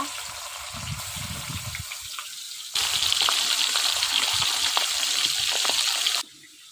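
Hilsa fish heads and tails drop into hot oil, and a loud rushing sizzle suddenly swells and holds for a few seconds before cutting off, following a quieter stretch of low kitchen noise.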